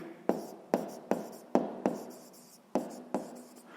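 A pen or pencil writing out a sixth-grade maths exercise by hand, eight sharp taps of strokes landing on paper at an uneven pace, each followed by a brief scratch, close and clear.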